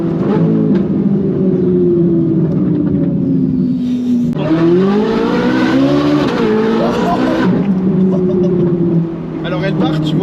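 Ferrari 458 Italia with its naturally aspirated V8 and IPE exhaust, valves open, roars loudly from close by, with sustained revving that climbs and falls, mixed with excited voices throughout.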